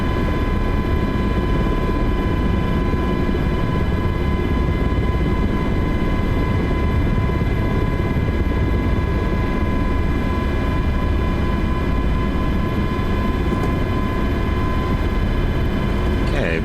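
An MH-60T helicopter's engine and rotor in Microsoft Flight Simulator 2024 produce a loud, steady turbine whine with constant tonal hum and broad rumble, running without pause throughout.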